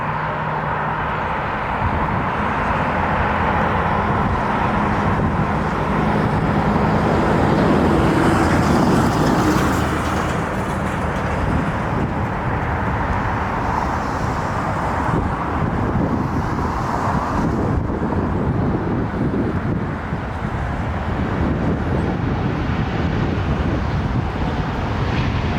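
Jet aircraft engines spooling up to takeoff thrust, a loud, continuous broadband roar that holds steady and close throughout.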